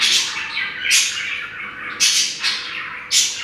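Bulbul birds squawk and chirp in repeated bright bursts, several calls spaced irregularly over a steady background hiss, fairly close and clear with no talking.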